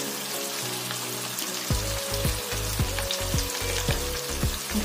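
Ingredients for a sweet and sour pumpkin sabzi frying in hot oil, a loud steady sizzle with repeated scraping stirs from about two seconds on, no talk.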